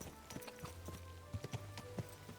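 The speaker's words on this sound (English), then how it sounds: "Oh, you're a pretty horse." Horse hooves clopping in the medieval game Kingdom Come: Deliverance 2, several distinct hoof strikes at an uneven walking pace, fairly close, over a low ambient hum.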